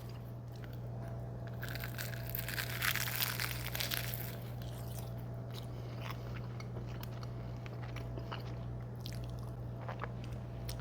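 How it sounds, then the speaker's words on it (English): A crisp crunch of biting into a flaky baked sausage pinwheel pastry, followed by quieter chewing crackles over a steady low hum, close and fairly soft. "Let's see if you can hear the crunch when I take a bite into them."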